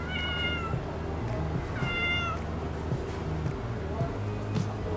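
A hungry cat meows repeatedly at close range on a street in Jiufen, Taiwan, a series of drawn-out cries while someone talks over it in Japanese.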